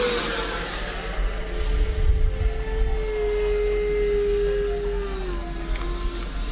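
An RC plane flying in to land passes with a high, whining engine tone that holds steady and then slowly drops in pitch as it approaches, loud and close over a low rumble.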